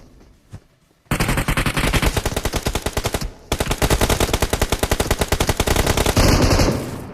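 Rapid automatic UMP submachine gun fire in the PUBG Mobile video game, loud sustained bursts of evenly spaced shots after a short quiet start, with a brief pause midway and no talk.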